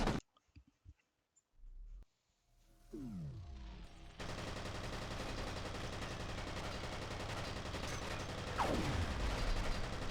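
Enemy gunfire in the video game FEAR: after a few sparse clicks and a whooshing sweep, dense continuous shooting fills the scene loudly and keeps going to the end.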